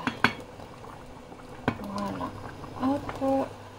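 Half a courgette dropped into a pan with garlic: soft clatters and knocks of utensils against the pan, then gentle sizzling, with faint voiced sounds in between.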